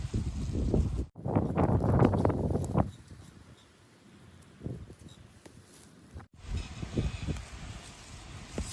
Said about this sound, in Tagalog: So windy today guys.